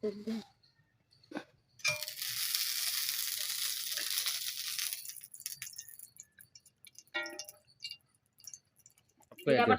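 Cumin seeds dropped into hot oil give a bright, steady crackling sizzle for about three seconds, with someone talking and kitchen clicks before and after.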